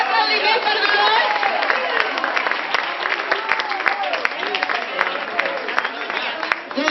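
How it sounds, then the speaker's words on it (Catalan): A theatre audience applauds in a steady, dense patter of many hands, with some crowd chatter mixed in, sustained across the whole stretch. "un aplaudiment per Dolors"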